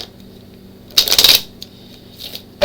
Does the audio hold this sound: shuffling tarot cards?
yes